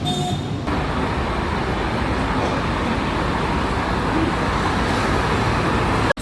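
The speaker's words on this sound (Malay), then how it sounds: "Kereta pun banyak nak datang sini." Dense, steady traffic roars along a busy city street in Bukit Bintang, Kuala Lumpur, a loud continuous wash of car and bus engines with no pauses.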